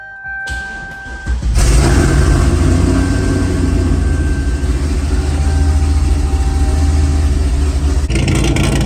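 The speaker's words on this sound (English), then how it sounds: "this is what you would normally hear if you were to try and start the car" Corvette LS7 V8 fitted with a Powermaster high-torque starter: a short starter crank catches and the engine fires into a loud, steady, rumbling idle that continues close up for several seconds.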